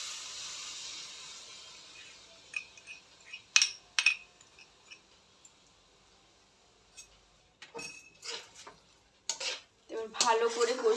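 A spoon stirring and sautéing biryani masala in a pan: scattered metallic clinks and scrapes in short bursts, separated by quiet gaps, growing busier toward the end.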